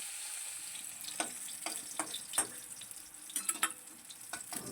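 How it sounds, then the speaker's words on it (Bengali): Small fish fry in hot oil in a pan, giving a faint, steady sizzling hiss dotted with scattered crackles and pops. "প্রথমে তেল নিয়ে তেল গরম করে তাতে মাছগুলো দিয়ে ভেজে নিতে হবে"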